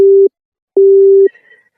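Phone call disconnected tone: two loud, clean electronic beeps, each about half a second long with a short silent gap, followed by a faint fading trace.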